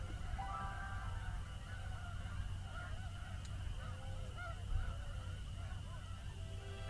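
A flock of tundra swans calls from a distance, many overlapping soft honking and whooping notes rising and falling continuously over a faint steady background.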